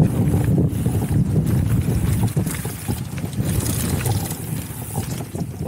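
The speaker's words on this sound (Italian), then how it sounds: "C'è un vento incredibile." Strong wind gusting across the microphone at the Mottolino mountain bike park, a loud, steady low rumble with buffeting that persists throughout without a break.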